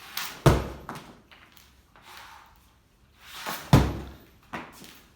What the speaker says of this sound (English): Kenzie doing a couple pull shots